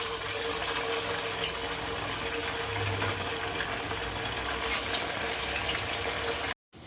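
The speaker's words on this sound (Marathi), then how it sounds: "आता आपण एक एक करून तेलामध्ये साबुदाणे वडे तळून घेऊया." Sabudana vada, fasting sago patties, frying one by one in hot oil over a medium gas flame, giving a steady, close sizzle and bubbling hiss with a brief louder crackle burst near the end.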